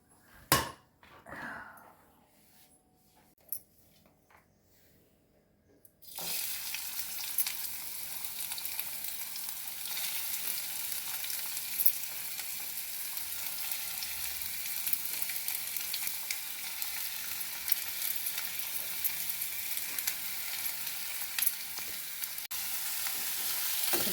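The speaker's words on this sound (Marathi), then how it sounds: "या खोबऱ्याने कांदा लसूण भाजतं आहे" Onion, garlic and grated coconut roast in hot oil for a chicken curry. A few quiet clinks come first, then a loud, steady sizzle starts abruptly and runs on evenly to the end with no talk.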